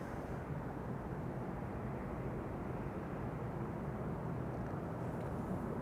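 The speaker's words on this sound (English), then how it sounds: "And up it goes. KLM flight 787 to Sint Maarten, A330 300." A KLM Airbus A330-300 takes off at Amsterdam Schiphol, its jet engines a faint, distant, steady low roar throughout with no voices.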